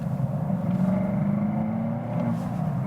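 A BMW X7 SUV accelerates in sport mode, a muffled engine note heard from inside the cabin that swells into a low, steady hum and eases off again over a few seconds.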